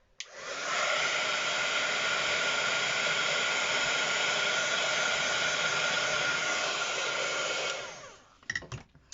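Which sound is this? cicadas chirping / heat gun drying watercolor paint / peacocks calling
heat gun drying watercolor paint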